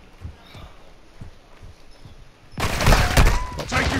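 Gunfire in Call of Duty starts partway through, with several loud, close shots and crackling bursts. Quieter sounds come before it, and there are brief bits of talk.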